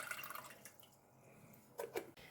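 Liquid is poured off from a saucepan of pickled spiced grapes, a faint trickle with a few louder splashes and drips near the end, no voices.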